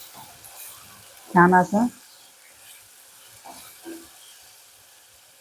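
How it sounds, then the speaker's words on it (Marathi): Tomato puree hits golden-brown frying onions in a pan, producing a soft, steady sizzle that stays faint beneath someone briefly speaking close by. "यामध्ये आपण आता हे टोमॅटोची प्युरी घालणार आहोत."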